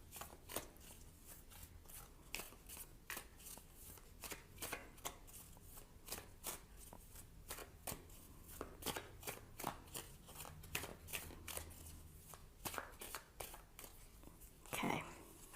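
Tarot cards being shuffled and riffled in a run of quick, crisp flicks and slaps that keep a steady rhythm, close and fairly quiet, ending with a brief louder rustle, with no talking.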